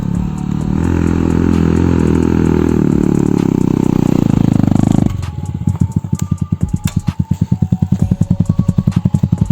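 Romet K125 motorcycle climbing a slope, a loud, close engine straining steadily, then dropping abruptly into a rhythmic, choppy idle with pulsing bursts.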